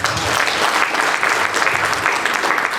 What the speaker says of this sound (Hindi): एक बार पुनः जोरदार तालियां आप तमाम लोगों के लिए